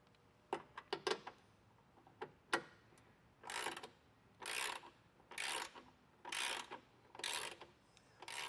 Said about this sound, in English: we can switch out from our 16mm back to our 13mm socket, and we're going to go ahead and tighten down the 6 bolts